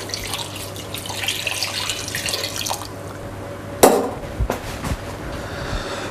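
Water for 1750 grams of sugar runs into a cooking pan, a light pouring splash for a few seconds, followed by a couple of sharp knocks and small clinks nearby, with no voices.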